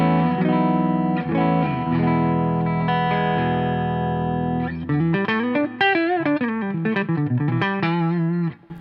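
An Epiphone Jerry Cantrell Les Paul Custom Prophecy electric guitar on its coil-split neck humbucker plays sustained chords, then a run of bent, wavering single notes with a bright, slightly thin clean tone and light distortion.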